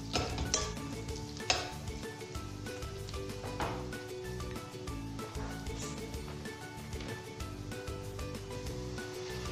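7 Up poured into a pan of browned garlic for Cajun mixed seafood, a steady sizzle and bubbling with clinks of a spoon against the pan, set against background music.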